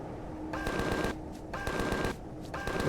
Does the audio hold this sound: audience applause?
no